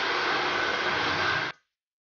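A hair blow dryer runs steadily on hair after a Brazilian keratin treatment, a loud, even whoosh held for about a second and a half before cutting off abruptly into silence.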